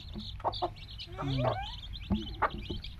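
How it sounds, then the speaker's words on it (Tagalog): A hen clucks and gives a rising, drawn-out cackle nearby, with short clucks before and after over a quiet background. "Naglalog si chicken."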